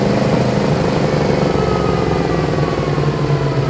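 A Yamaha MT-10 motorcycle idles steadily close by, its deep, even engine rumble holding without revving for the few seconds, with no talk over it.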